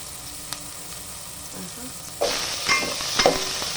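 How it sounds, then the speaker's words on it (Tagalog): Ginger sautéing in hot oil in a pan as the first step of cooking salmon belly, with faint quiet sizzling that rises into a louder burst of frying and stirring partway through. "igigisa natin yung luya at saka para hindi lang siya malangsa"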